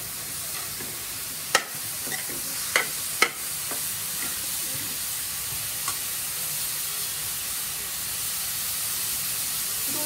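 Carrot halwa simmers with milk in a pan on a gas flame at high heat, giving a soft steady sizzle and hiss broken by a few sharp stirring clicks and scrapes.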